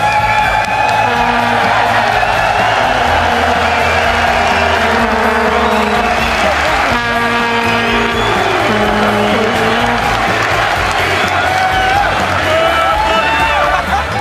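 Live crowd at a 2014 EU LCS summer League of Legends match, CW vs FNC: a dense, loud, continuous roar of cheering and shouting voices with whoops, sustained throughout the stretch, mixed with broadcast sound.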